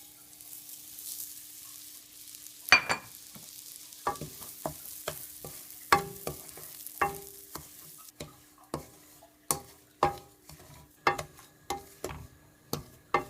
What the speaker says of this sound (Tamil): இப்போது இந்த ரவையும் போட்டு வறுத்துக்கலாம்.